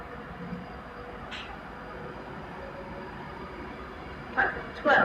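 An Avanti West Coast train pulls out of Crewe station for London Euston, a low rumble that rolls on steadily, ending with a couple of louder bursts close by.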